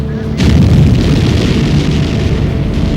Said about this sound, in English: A terrific explosion.